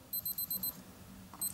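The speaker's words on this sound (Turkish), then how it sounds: "Hemen alarmı ötmeye başlıyor." A Cookoo smart watch alarm rings in quick high-pitched beeping bursts, five rapid pulses, a short pause, then beeping again, close and clear with no talk.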